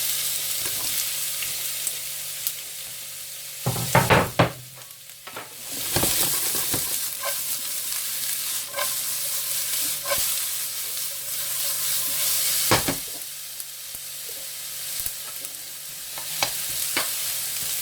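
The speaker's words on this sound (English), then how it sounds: "we just want to quickly sort of like just saute them" Sliced red and green peppers and a whole red onion sizzle in a hot pan for a chicken tikka sizzler, a constant close frying hiss broken by loud stirring clatters and scrapes, with no talking.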